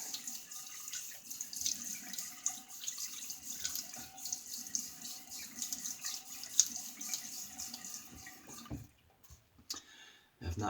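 Tap water running into a sink for rinsing during a wet shave with a badger brush, a steady, soft hiss of flow close by that stops abruptly near the end.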